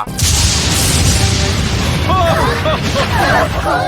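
An anime explosion bursts with a loud, sustained roaring blast in a fantasy world, heavy low rumble lasting several seconds as a voice speaks over the tail of the blast.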